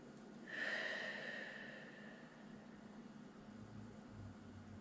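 Slow breathing during a chair yoga pose, with the forearms resting on the thighs: one soft, airy breath with a faint whistling edge near the start, then a quiet, gradually fading exhale over low room hiss, close and faint.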